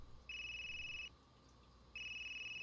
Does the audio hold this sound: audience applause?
no